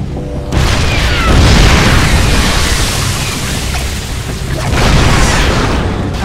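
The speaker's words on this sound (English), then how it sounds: "You've got another drop pod landing nearby." A drop pod slams down in StarCraft 2, a loud, deep explosive boom that rumbles on for several seconds with a second surge of blast noise near the end, dense and close with no voices over it.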